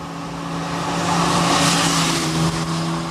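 A modified 1983 Volkswagen Mark I Golf GTI fitted with a G60 supercharged engine from a Corrado runs loud and close, a steady droning engine note that swells through the middle without any voices.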